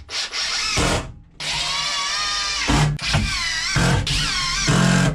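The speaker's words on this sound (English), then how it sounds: "I'm gonna put a screw in each board" Power drill driving screws through plywood boards into a center support piece for a truck camper build, sounding as three long whirring bursts of roughly a second or more each, close and loud, with short pauses between them and no talk.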